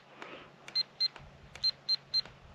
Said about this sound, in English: 3 beeps is fast, then we put it in headless mode.